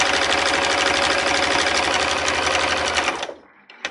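A sewing machine stitching fabric in a straight line, a fast steady mechanical whir and needle chatter running continuously at close range, then stopping abruptly near the end.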